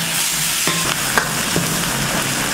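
Soaked chana dal and small onions fry in a pan for a village-style goat kudal gravy, with a loud, steady oily sizzle and a few stirring scrapes and clinks, no talking.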